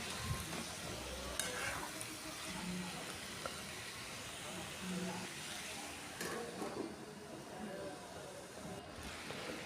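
Assamese-style mixed vegetables fry on high flame in a covered pan, giving a steady close sizzle and hiss broken by stirring scrapes, with a voice talking faintly at times.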